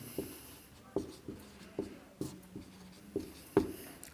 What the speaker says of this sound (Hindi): चलिए पहले परिभाषा लिख लेते हैं।